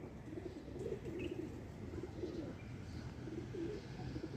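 Pigeons coo softly on a city rooftop in repeated low, rolling phrases, each lasting about a second, over a constant hum of background noise.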